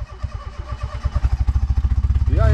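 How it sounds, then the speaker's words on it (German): A stalled motorcycle engine is cranked and restarted, its rapid chugging pulses building steadily before it catches and revs up at the end, close and loud with no talking. "Der Motor ist zwar ausgegangen, das ist normal. Ja. Man muss ihn einfach nochmal starten."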